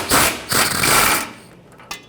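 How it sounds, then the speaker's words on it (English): Ratchet clicks come from a stubby wrench working loose an oil pan bolt on a Ford F-150 with a 5.4L engine. Two close, loud bursts of rapid clicking are followed by quieter metallic taps, with no talking. "I'm going to use a stubby wrench on the back side to push it out as I unthread it"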